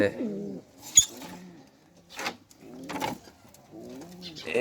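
Pigeons coo in a loft, several soft throaty coos in repeated bursts close by, with a voice talking in between.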